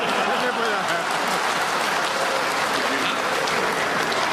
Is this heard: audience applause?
yes